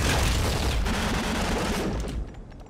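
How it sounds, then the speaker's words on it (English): Hyper rifle firing and exploding in the video game Nuclear Throne, a dense, loud burst of rapid gunfire and blasts that fills most of the clip, then fades over the last half second. "we're gonna take the hyper rifle. Just let it explode in our face."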